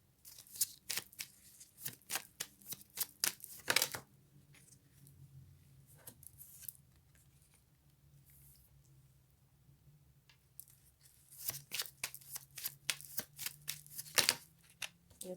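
Cards are shuffled during a tarot-style reading in a quiet room, with rapid bursts of riffling and flicking, a calmer stretch in the middle, then another run of shuffling.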